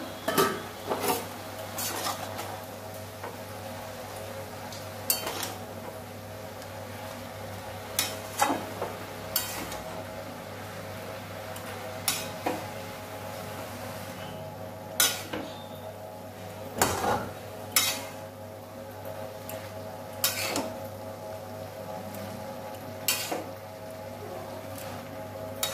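A metal spoon scrapes and knocks against a pan while turmeric, chili powder and cumin are stirred into cabbage with vegetables, giving irregular sharp clanks over a steady low kitchen hum, with a faint sizzle beneath.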